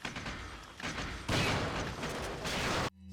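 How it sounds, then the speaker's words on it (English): A flashbang grenade going off in Resident Evil 4 (2005), a loud, broad burst mixed with rattling noise, swelling twice before cutting off abruptly near the end. "All right, another flashbang."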